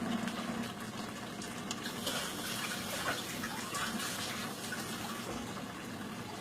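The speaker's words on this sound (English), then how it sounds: "I'm going to go ahead and add just a bit more of water." Water pours steadily into a pot of carne guisada, a soft continuous splashing and trickling with no voices.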